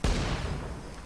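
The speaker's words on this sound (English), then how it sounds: "Can these explosions hurt ourselves?" A single explosion from the Borderlands 2 video game bursts loudly at the start, then decays into a rumbling tail that fades over about a second.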